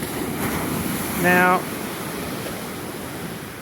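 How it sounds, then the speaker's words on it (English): Waves roll onto a sea shore in a steady wash of surf with wind noise on the microphone, a bass-fishing spot on choppy water; a brief tonal beep cuts in near the middle and a voice speaks once. "we've got a nice, how many? 1, 2 waves coming in"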